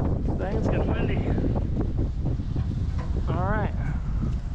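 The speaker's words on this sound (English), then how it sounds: "Dang, it's getting windy." Strong wind buffets the microphone with a constant low roar outdoors during a 2021 Mercedes first service, while a person's voice comes through briefly over the gusts.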